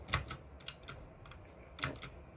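Typing on a GK61 60% mechanical keyboard: a handful of crisp, clacky keystrokes in an uneven rhythm, fairly quiet and close, with no talking.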